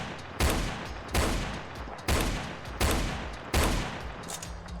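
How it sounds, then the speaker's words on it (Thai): A Desert Eagle pistol firing in the Roblox game Zombie Tycoon: five loud, booming single shots at even intervals of about three-quarters of a second, each with a long, fading tail. "โอ้โห เสียงแบบสนั่นมากดีเซอร์อีเกิล"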